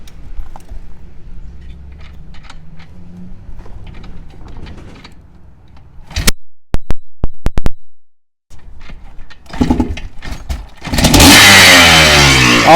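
A Yamaha YZ490 dirt bike, a barn find, is kicked over with sharp clattering strikes before the two-stroke engine catches and revs loudly and raggedly, filling the last couple of seconds up close.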